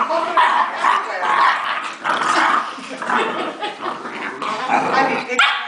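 Chesapeake Bay Retriever puppies bark, yip and growl close by in a busy, continuous scramble of small, repeated bursts, with voices mixed in now and then.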